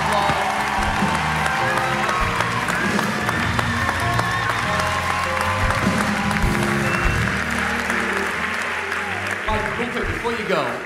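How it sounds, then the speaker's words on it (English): An audience at a pastors' conversation event breaks into big applause with cheers and whoops, a loud continuous roar of clapping and crowd noise with music underneath. "let's give them a big round of applause."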